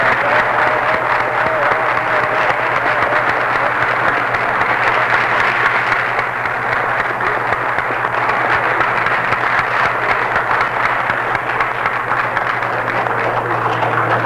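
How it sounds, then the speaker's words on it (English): Prolonged applause for the head of state at a national address in Liberia, broadcast on radio, a continuous dense roar of clapping over a steady low hum that holds evenly throughout. "The Commander-in-Chief deserves another round of applause."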